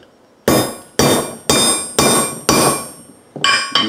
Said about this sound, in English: let's see how it plays out on the hammer test.